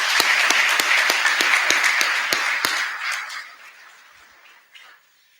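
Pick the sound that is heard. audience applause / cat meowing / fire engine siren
audience applause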